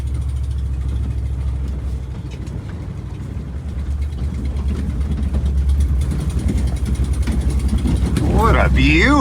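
Low, steady engine drone from a 1973 International crew cab truck running on a lap, heavy rumble throughout with a brief voice rising near the end.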